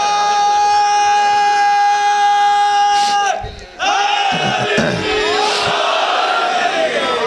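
A crowd at a religious gathering chants a slogan together, loud and sustained, with voices swelling into a roaring unison call after a brief pause midway.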